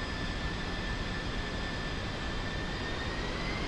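Steady, loud jet engine roar of an F-5 fighter in the DCS flight simulator, a dense continuous whine and rumble with no break.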